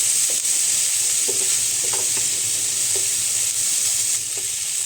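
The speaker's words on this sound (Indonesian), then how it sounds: "tinggal ditumis sampai bawang merah, bawang putih, dan juga cabenya ini" Shallots, garlic and chili sautéing in a pan give a steady, loud sizzle and hiss, with a few faint stirring clinks and no talking.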